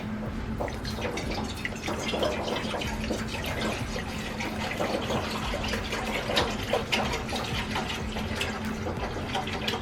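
Water runs steadily from a tap into a pot, a continuous splashing rush with a faint rising fill tone, close and uninterrupted.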